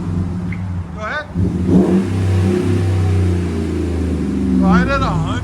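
Close, loud and deep, the 5.7L HEMI V8 of a 2012 RAM 1500 SLT with Magnaflow dual mufflers holds a sustained rev while people talk at the start and end.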